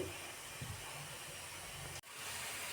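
Chopped onions and green chillies sizzle in hot oil in a pan, a steady soft hiss with a brief dip partway through, no voices.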